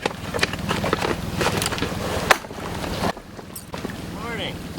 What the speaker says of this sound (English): I hear that boat coming.